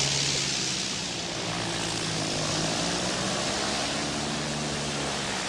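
A propeller airplane comes in to land with a loud, steady engine drone and airscrew roar that fill the whole stretch without a break and drown everything else.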